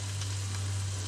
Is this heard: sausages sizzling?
yes